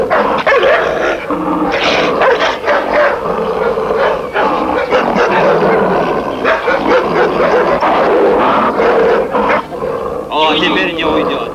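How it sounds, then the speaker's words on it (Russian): Several dogs bark and yelp fiercely during a tiger hunt in the taiga, the barking loud and nearly constant under shouting men and a roaring animal. "Держи собак."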